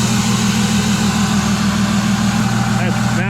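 A Kubota R630 wheel loader's diesel engine idles steadily while warming up, loud up close, a low constant rumble with a droning hum that holds throughout.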